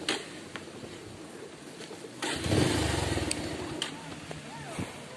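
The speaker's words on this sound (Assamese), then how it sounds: "বাইকখনে কিন্তু বহুত কষ্ট পায়" A strained, faulty motorcycle engine revs and labors nearby on a ride to Kokochang waterfall, its growl rising midway and holding under strain, with faint birdsong in the background.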